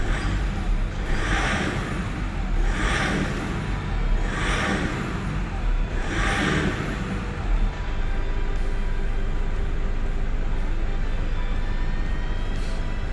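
Diesel engine of a 2005–2008 Toyota Hilux with the 1KD-FTV engine and the EGR blanked off, a loud steady rumble close by with four swelling revs early on before it settles back to an even idle.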